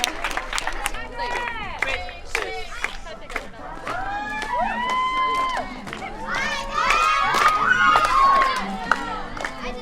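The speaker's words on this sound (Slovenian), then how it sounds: "bravo, ploskamo" Children in a Slovenian training camp in Izola cheer, shout and clap together as a group, a lively continuous crowd of young voices with applause that swells toward the end.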